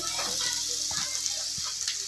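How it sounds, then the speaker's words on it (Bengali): Peanuts and raisins frying in hot oil in a pan while making semolina upma, a close steady sizzle with light stirring clicks. "এবার বাদাম আর কিশমিশটা দিয়ে দেবো। বাদামটাও ভেজে নিতে হবে"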